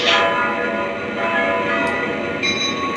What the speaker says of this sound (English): on the bells, you get, again, some different variations of Halloween-like bells